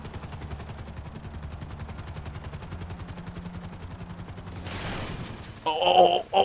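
Rapid automatic gunfire from a police officer in GTA V rattles in a steady fast stream over a helicopter's drone, then gives way to louder bursts of impacts near the end.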